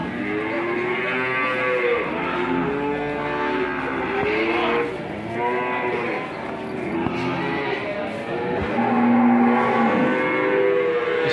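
Simmental cattle at a cattle market low and moo repeatedly, several overlapping long, loud calls from nearby animals over a constant busy background of market noise.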